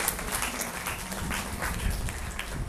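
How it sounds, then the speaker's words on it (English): An audience at a talk on writing about Sri Lanka for international audiences gives the event organisers a round of applause, dense steady clapping throughout. "Please give them all a big round of applause."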